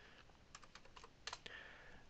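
Keys clatter on a computer keyboard in a quick, light burst of typing, soft and close, with a couple of firmer taps near the end.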